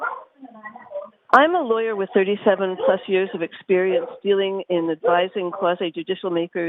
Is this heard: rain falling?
no